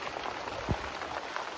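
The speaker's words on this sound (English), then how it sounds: "So it's currently raining, of course" Rain falls outside a backyard garden in spring as a soft, steady patter, quiet and unbroken for a moment with no voices.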